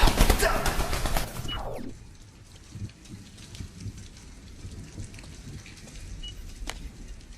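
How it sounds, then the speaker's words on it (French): Pigeons coo inside an abandoned bathroom with broken windows. A loud, rushing flurry opens the clip, then soft, low cooing and faint rustles carry on in the quiet room. "Une salle de bain remplie de pigeons."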